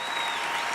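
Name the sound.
sampled clapping played from a sound sampler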